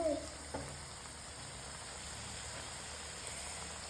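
Onion vada (ullivada) frying in hot oil in a Kerala home kitchen, a steady soft sizzle and hiss that runs evenly throughout, close and fairly quiet, with a brief clatter near the start.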